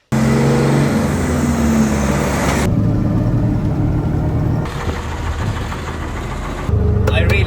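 A KamAZ truck engine runs with a loud, steady diesel drone and some knocking vibration, shifting in tone partway through as the sound cuts between takes, with no talking.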